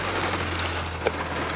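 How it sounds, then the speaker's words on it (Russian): Heavy rain hissing steadily over a low constant hum, with one brief louder splash partway through. "Начался сильный дождь, поднялся прям такой конкретный ветер."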